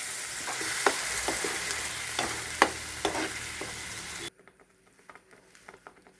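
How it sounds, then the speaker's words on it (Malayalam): Ground spice paste stirred into frying masala for a prawn biryani: a continuous close sizzle with repeated spoon clicks and scrapes against the pan, cutting off abruptly to near silence with faint ticks. "നമ്മൾ അരച്ച് വെച്ച കൂട്ട് ഒഴിച്ചു കൊടുത്ത് നല്ല പോലെ മിക്സാക്കാം"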